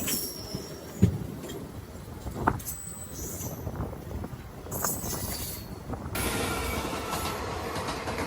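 An express train on the railway line between Nellore and Sullurupeta rushes past with a loud rolling rumble, rhythmic wheel clacks and brief squeals, wind noise and faint voices in the background.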